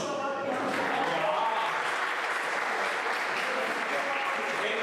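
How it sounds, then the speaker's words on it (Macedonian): A stand-up comedy audience at a live show in Frankfurt bursts into spontaneous applause, a dense, steady wash of clapping from many people that holds at an even level for several seconds, heard close. "Па спонтан аплауз."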